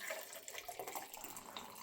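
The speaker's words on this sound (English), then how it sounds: "now we're going to pour our coffee in" Coffee pours from a French press in a short, soft, steady liquid stream, close and quiet with no talking.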